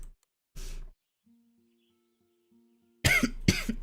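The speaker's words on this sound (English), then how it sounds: "I'm so sorry I'm coughing so much today." A person coughing: one short cough, a pause with a faint low hum, then a pair of loud, close harsh coughs near the end.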